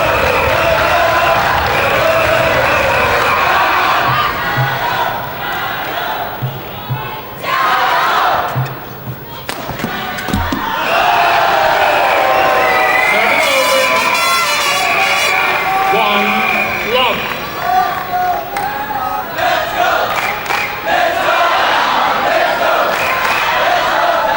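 A large arena crowd at the 2005 All England men's doubles badminton final cheers and chants loudly, sustained roars and rhythmic shouting surging throughout, with brief dips and an announcer talking over it.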